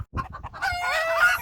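Several hens and chicks cluck and squawk noisily together near a broody hen, a rising chorus of fowl calls with one crow-like call that grows louder over the short stretch.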